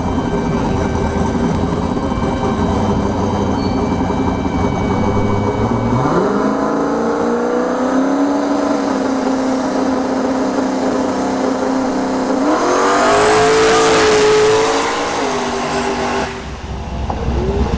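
A drag racing truck's loud engine drones steadily with a loud fuel pump, then revs up twice with rising pitch, a powerful close mechanical roar throughout with no talking, at a drag strip.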